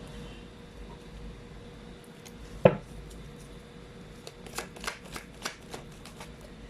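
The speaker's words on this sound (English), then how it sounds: "Let's try to pull up more cards here." Tarot cards being shuffled in a quiet room, a sharp single snap followed by a run of soft riffling flutters, faint over low background hum.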